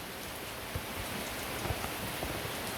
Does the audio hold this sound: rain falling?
yes